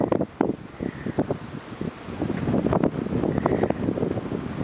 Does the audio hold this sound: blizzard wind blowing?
yes